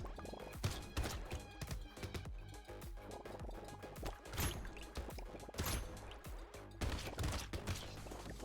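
Rapid bursts of small explosions crackle and thump in the roguelike game Brotato during a busy wave, arriving in dense, irregular clusters at a fairly low level with no voice over them.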